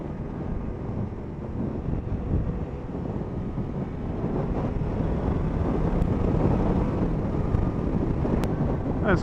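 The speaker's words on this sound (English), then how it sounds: "It's quite windy today." Constant wind buffets a motorcycle helmet microphone, producing a heavy low rumbling roar that swells slightly and never lets up.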